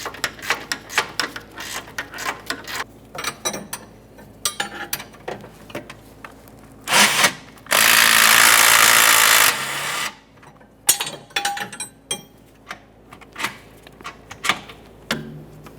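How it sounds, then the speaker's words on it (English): A mechanic removes the rear upper control arm mounting bolt on a 2015-2019 Subaru Outback, holding the nut with a 17mm wrench: quick close ratchet clicks, a loud power-tool whir of about two seconds, then more ratcheting. "I'll start removing that mounting bolt."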